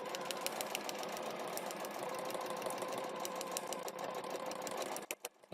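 A sewing machine stitches steadily through a seam allowance, its rapid mechanical whir running continuously and close for about five seconds before stopping with a few soft clicks.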